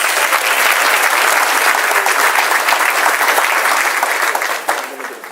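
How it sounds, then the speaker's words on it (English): Full, loud applause from a gala audience honoring award recipients, a thick continuous roar of clapping that eases slightly toward the end. "let's give the first phase of our 24 honorees a nice round of applause"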